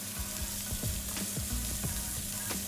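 Beef tenderloin slices sear in a hot cast iron pan with a loud, continuous sizzle, spitting crackles and a low hum underneath, and no voices.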